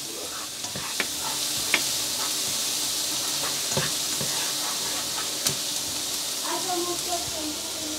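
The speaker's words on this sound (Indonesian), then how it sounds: "setelah ini kita masukkan bawang putih. Kita tumis." Garlic sautés in olive oil in a pan, giving a steady, moderate sizzle with scattered light clicks and taps from stirring.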